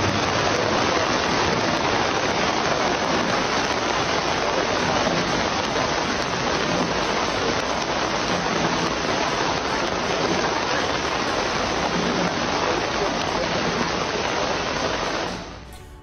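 Heavy rain pours down during a storm in Guatemala, a dense, loud, continuous hiss of rain on surfaces that holds steady throughout before fading at the very end.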